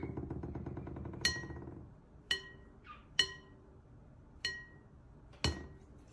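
A glass object clinks five times at uneven intervals, each a bright, ringing tap, close and clear over a quiet low hum and faint background noise.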